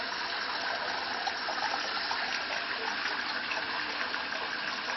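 Shower water streaming steadily over a Siberian Husky being rinsed indoors, a constant close hiss of spray with no pauses.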